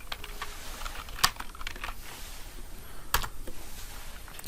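Keys clatter on a computer keyboard in short quiet bursts, with two sharper, louder clicks standing out against a faint background hiss.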